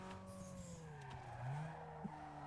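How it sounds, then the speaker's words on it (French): A pursuing race car's engine drones close behind in the Need for Speed Underground 2 racing game, a steady gliding pitch with brief tire squeal and a short thump near the end. "J'entends son moteur derrière."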